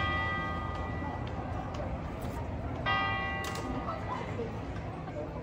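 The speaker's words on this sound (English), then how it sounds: "Whose bell was that?" A bell rings out in Prague, a few distant metallic strikes with lingering tones over a quiet outdoor background.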